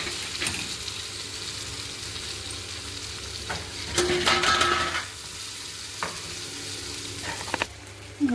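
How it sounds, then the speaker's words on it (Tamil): Chicken sizzles and fries in a pan with roasted onions, a steady close crackle with a few brief stirring scrapes and clinks partway through. "ஆனியன் நல்லா ரோஸ்ட் ஆகிடுச்சு. இப்போ ஃப்ரை பண்ணி வச்சுக்க சிக்கனை இதில் போட்டுக்கலாம்."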